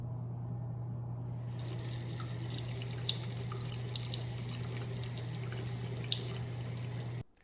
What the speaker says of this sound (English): So here's what it looks like when I turn the tap on now.